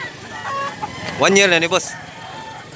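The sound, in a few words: rooster crowing and clucking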